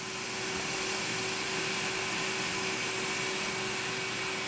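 A vacuum cleaner running steadily from about 25 feet away, its even whine and broadband rush holding at a constant moderate level with no pauses or talk.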